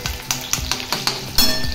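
Onion sizzles in hot tempering oil in a pan, with a soft frying hiss under a series of quick metallic clinks and scrapes as it is stirred, heard nearby with no talking.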